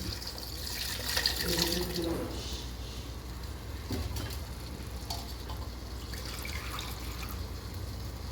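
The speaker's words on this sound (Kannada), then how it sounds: "ಇದು ಎರಡು ಲೋಟಕ್ಕೆ ನಾಲ್ಕು ಲೋಟ ನೀರು" Water runs and splashes steadily into a vessel as four glasses are added for tomato bath, a continuous soft pouring hiss over several seconds with light clinks.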